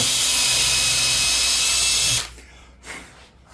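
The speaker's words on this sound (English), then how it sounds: "re-drill this to a 3/8" A power drill with a 3/8-inch bit whines loudly and steadily as it re-drills dowel holes in a 45-year-old office chair, then cuts off abruptly and leaves a quiet room with a faint bump.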